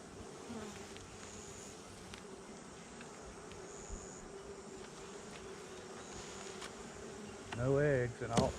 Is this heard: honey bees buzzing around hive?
yes